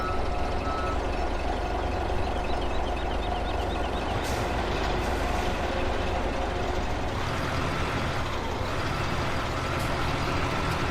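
Trucks maneuvering in Farming Simulator 17, with a steady loud engine drone and rumble, a faint repeated reversing-style beeping early on, and no talk over it.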